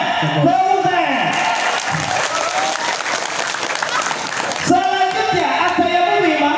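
Audience applause at an Islamic boarding school demonstration, a dense burst of clapping that swells and fades over several seconds with voices mixed in.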